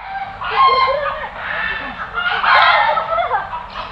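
A rooster at the zoo crows loudly and close, two drawn-out calls with clucking between them, while people talk nearby.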